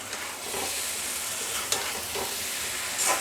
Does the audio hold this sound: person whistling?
no